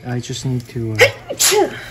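A person sneezes loudly and close by in the middle of talking while potting a Cymbidium orchid, and speech comes just before the sneeze.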